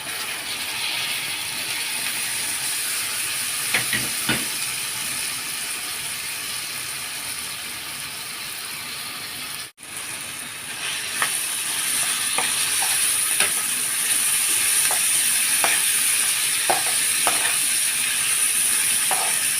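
Shawarma sizzles in a pan as tomatoes are added, a steady close hiss with occasional clicks and scrapes that briefly cuts out midway, then resumes a little louder and brighter.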